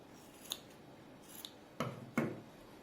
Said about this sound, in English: Now whatever the edges you feel are uneven, you can just cut them off.